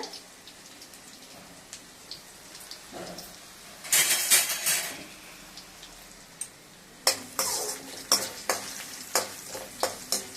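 Hot oil crackles and sizzles in bursts as urad dal is dropped in and stirred for tempering, with sharp spattering pops rising and subsiding.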